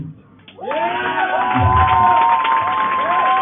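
A church congregation cheers and acclaims a woman at a pastor's consecration service, a loud sustained swell of voices and shouts rising after a brief quiet start, with speech mixed in.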